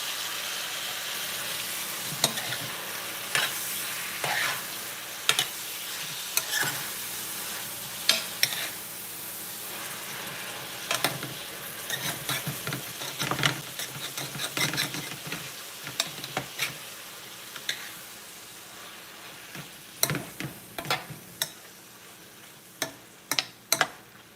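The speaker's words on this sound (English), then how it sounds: "So I'm leaving this here to fry." Tomatoes sizzle steadily as they fry in a pot for an okra and rice stew, with frequent sharp scrapes and knocks of a spoon stirring at irregular intervals over the constant frying hiss.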